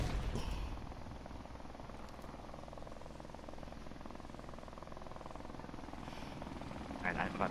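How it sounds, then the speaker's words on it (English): Friendly helicopter in the video game Modern Warfare Remastered on the Shipment map, a steady, continuous rotor drone running loud throughout, with game sounds and players talking over it. "Friendly helicopter on the way."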